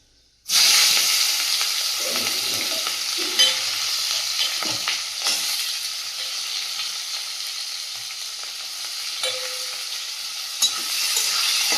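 Oil sizzles loudly as chopped onions drop into the pan after whole peppercorns, then a steady frying crackle continues with occasional stirring scrapes.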